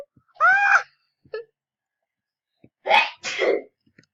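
A person sneezes twice: a short wailing wind-up first, then a pair of sharp, close, loud bursts, with quiet gaps between them.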